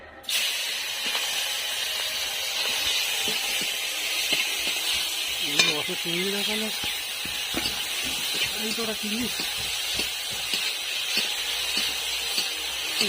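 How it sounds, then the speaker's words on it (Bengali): Prawns frying in hot oil in a wok for a Bengali potol chingri dish, a steady broadband sizzle running throughout with a few clinks, and a voice talking briefly over it midway. "এবার আমি ওটাকে তেলের উপরে দিয়ে দেবো।"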